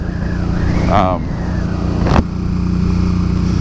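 A 2012 Suzuki Boulevard C50T cruiser motorcycle engine-brakes, giving a steady low engine drone with a brief rise and a quick mechanical burst, under someone talking close by.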